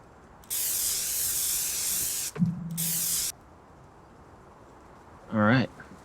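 In Farming Simulator 19, a spray paint can gives two close, loud hissing bursts, the first nearly two seconds and the second shorter, with a brief squeak between them and a short chirp near the end.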